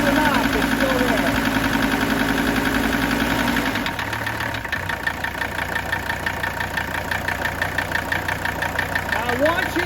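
A diesel engine idling with a persistent knock, a steady rhythmic mechanical clatter running throughout that shifts slightly in tone partway through, fairly close, with a voice talking over it.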